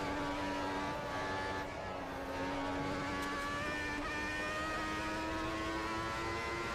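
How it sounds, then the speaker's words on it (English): A 1995-era Formula 1 car engine in the Automobilista 2 racing sim, a high-pitched, steady whine at sustained revs, rising slightly in pitch, loud and continuous with no talk over it. "Cars sound great."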